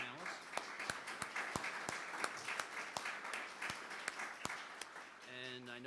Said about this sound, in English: Please join me in a round of applause for the panelists.